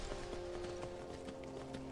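Hooves clip-clop in an even, quick rhythm as a horse moves in Skyrim. The sound is fairly quiet and steady, with a low game ambience beneath it.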